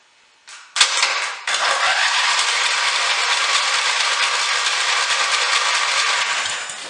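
A 17.5 or 19 hp Briggs and Stratton engine cranks with the throttle wide open, starting with a brief click and then a loud, steady, rhythmic starter whir that runs for several seconds before easing off.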